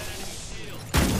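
Gunfire in Apex Legends, a low rumbling game soundscape that breaks into a sudden loud burst of shots near the end.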